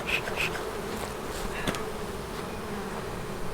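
Honeybees buzz steadily at an open backyard hive in North Port, Florida, a dense continuous drone close by with no voices.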